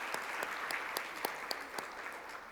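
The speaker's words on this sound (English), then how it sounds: "Please welcome him with another big round of applause." Audience applause welcoming a panelist, the Managing Partner of Angel Ventures in Mexico, at a Korea and IDB partnership conference; steady, moderate hand clapping from a seated hall with a few sharper claps standing out, no speech over it.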